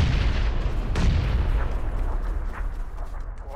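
A grenade blast in the PUBG battle game, a dense low rumbling boom that lingers and slowly fades over a few seconds, with no talk.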